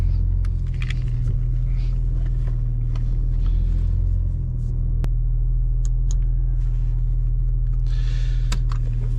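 A Porsche 911 Carrera 2 of the 992.2 generation on the road, heard from inside as a loud, steady low engine and road rumble with a few faint clicks and rattles.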